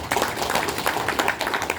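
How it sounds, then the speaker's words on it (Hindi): An audience at an insurance company staff meeting in Imphal breaks into a short burst of clapping, a quick patter of hands close by with no voices over it. "इसमें तालियां होना चाहिए छोटा सा."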